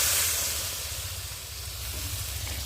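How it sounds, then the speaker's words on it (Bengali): Water is poured into a hot pan of soybean and egg curry, setting off a loud, close, continuous hiss of steam and sizzle that fades slightly, then holds. "জল দিয়ে দিলাম"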